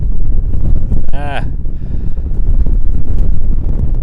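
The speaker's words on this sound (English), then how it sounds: "boy, wind's really picking up" Strong outdoor wind gusts buffeting a microphone make a loud, continuous low rumble and roar that swells and dips throughout, with a brief higher chirping sound near the middle.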